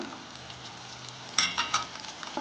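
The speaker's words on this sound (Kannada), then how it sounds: "ಈರುಳ್ಳಿ ಹಾಗೂ ಟೊಮೆಟೊನ ಚೆನ್ನಾಗಿ ಬಾಡಿಸ್ಕೊಳ್ಳೋಣ" Onion and tomato sautéing in a pan for a fenugreek and okra dry curry, a quiet steady sizzle broken by a few sharper scraping stir sounds near the end.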